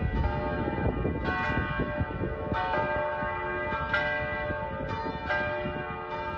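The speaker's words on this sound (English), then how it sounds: "Church bells are one of 16 sounds that Ella Coonan put on her bucket list." Church bells ring steadily, several bells striking in a slow repeating pattern with long ringing overtones, moderately distant and without voices.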